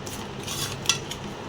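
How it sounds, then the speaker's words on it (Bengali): Prawns are cut with a knife against a metal plate or board, producing soft scraping and a couple of small sharp clinks close by, with no talk. "এখন চিংড়ি মাছটা কেটে নিব"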